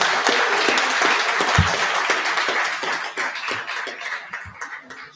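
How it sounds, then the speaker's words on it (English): Town meeting audience applauding volunteers in Orrington, a full burst of clapping from many hands that starts strong and gradually thins out toward the end. "I'd like the town to give you a round of applause."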